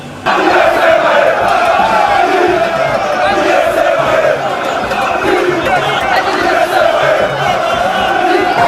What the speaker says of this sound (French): scandant des cris de joie pour manifester leur soutien indéfectible à l'endroit de celui que la population du Congo central appelle affectueusement Kundiambote